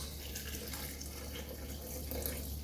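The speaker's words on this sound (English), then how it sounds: "Then I'm gonna add some warm water to it" Warm water runs from a kitchen tap into a bowl of tomato paste, making a steady, close rushing hiss that continues without a break and with no talk over it.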